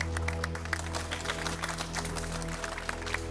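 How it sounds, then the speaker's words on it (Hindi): Audience clapping welcomes two journalists at a gathering, a moderate, continuous patter of hands set over a steady low musical drone, fairly distant and even throughout. "आप इनके इस अति साहसिक कदम के लिए उत्साहवर्धन के लिए तालियों से इनका स्वागत करें।"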